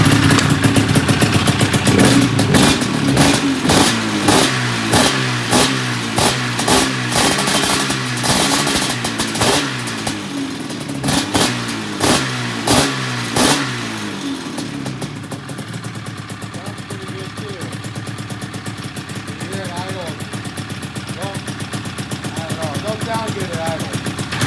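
A piped Suzuki-style XC 700 dirt bike engine, a two-stroke, revs in a loud run of sharp repeated blips for about fourteen seconds, then drops to a rough, uneven idle that burbles on close by.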